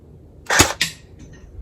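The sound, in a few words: airsoft Kalashnikov replica firing a single shot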